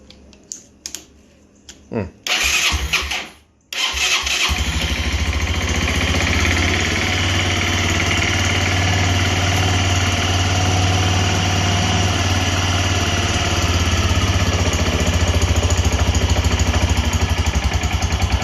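A rebuilt 2001 Bayou 220 ATV engine cranks in a few short bursts, then catches and settles into a loud, steady, close idle that runs for over a dozen seconds.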